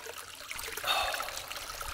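Water trickles from a small forest spring in the Bieszczady mountains, a soft steady dribble heard close up with a brief brighter gurgle partway through and no voices.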